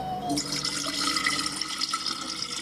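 Hot water pours steadily onto Milo powder with a bright, splashing trickle, close up, as a short rising whistle fades at the start.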